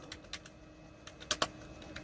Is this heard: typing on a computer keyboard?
yes